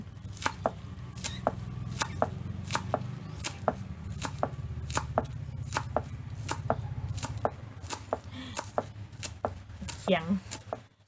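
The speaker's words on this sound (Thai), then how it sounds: "หั่นต้นหอม" A knife chops spring onions steadily on a board, sharp close taps in an even rhythm, with faint voices murmuring in the background.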